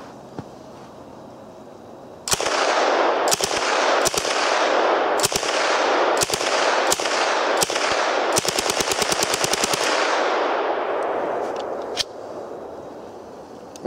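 A VZ-26 submachine gun converted to 9mm fires Tula rounds in several short bursts, then a fast full run of shots, loud and sharp with ringing decay between them and no talking.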